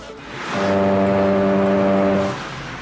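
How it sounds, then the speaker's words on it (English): A car's tyres run over road rumble strips, a loud steady buzzing drone of about two seconds that swells up and then fades back to road noise. "Rumble strips."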